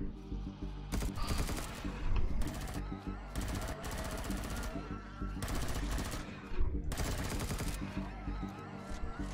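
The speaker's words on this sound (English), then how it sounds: "Oh, you're using a pulse rifle?" A pulse rifle in Empyrion Galactic Survival fires in repeated bursts of rapid shots, loud and close, with mechanical clatter between volleys.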